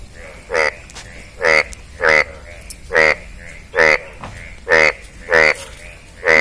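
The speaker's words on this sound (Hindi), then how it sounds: "मेंढक कर रहा आवाज" A frog croaks loudly and repeatedly, about eight harsh, buzzy calls at a steady rhythm, close by against a quiet background, during rain.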